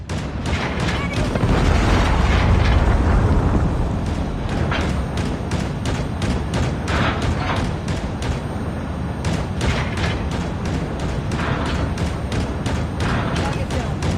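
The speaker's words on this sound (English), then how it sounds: "Hostile predator missile inbound." A predator missile strike in a video game lands as a heavy, rumbling explosion early on, followed by rapid, repeated gunfire cracks through continuous battle noise.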